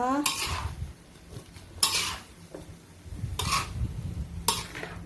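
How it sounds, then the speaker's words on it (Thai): Seasoned pork being stir-fried in a pan for Thai rad na: a spatula scrapes and clanks against the metal pan in four sharp, evenly spaced strokes over a soft sizzle. "ก็ผัดให้เข้ากันนะคะ"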